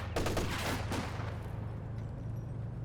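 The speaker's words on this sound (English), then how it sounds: "They start taking a lot of damage from this machine gun." Machine gun fire in Company of Heroes 2 sounds as a rapid burst of close shots in the first second, then fades into a low rumbling battle background.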